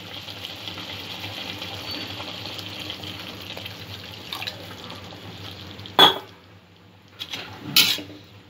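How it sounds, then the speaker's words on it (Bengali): Chole, a chickpea curry, simmers in a pot with steady close bubbling and hissing, broken near the end by a couple of sharp metallic clanks of a utensil against the pot. No one speaks. "আরেকটু জল দিয়ে কারিটা আমি ফুটিয়ে নেব।"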